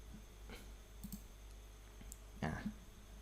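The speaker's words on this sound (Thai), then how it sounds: "ให้คลิกขวาครับแล้วก็เลือก personalize ครับ" A computer mouse gives a few faint, sparse clicks in a quiet room, with the last click a bit louder than the rest.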